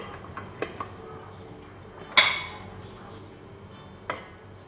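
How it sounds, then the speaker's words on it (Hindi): Spoonfuls of icing sugar going into a mixing bowl for butter icing, heard as a few light metallic clinks and taps of the spoon against the bowl, one sharper knock in the middle, over a quiet room. "यहाँ पर अब मैं इसके अंदर आइसिंग शुगर डालना शुरू करूँगी।"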